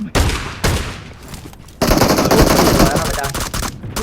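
Rapid burst-fire gunshots in the mobile battle royale game PUBG Mobile, loud, close bursts, first two short volleys then a longer sustained stream of shots over about two seconds.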